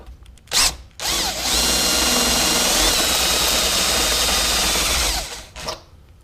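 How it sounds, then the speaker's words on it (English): A step drill bit bores a quarter-inch hole in the cab roof of a 2016 Ford F-350, giving a loud, steady whine of about four seconds. Brief bursts of the drill come before and after it. "I'm using a step bit here to do the 1/4 inch"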